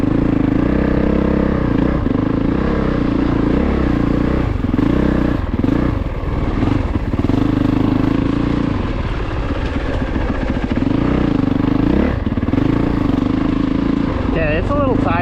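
A 2022 Honda CRF450RX dirt bike ridden along a tight off-road single-track trail, engine droning loud and close with throttle surges and clattering over rough ground, while the rider talks intermittently over it.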